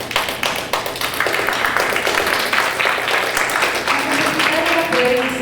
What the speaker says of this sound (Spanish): Te mando un fuerte aplauso.